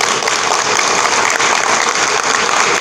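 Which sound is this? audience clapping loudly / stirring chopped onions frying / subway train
audience clapping loudly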